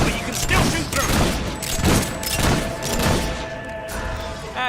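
Gunfire in the video game Fable III comes as repeated heavy blasts in a rolling, evenly spaced volley, loud and close, mixed with voices talking.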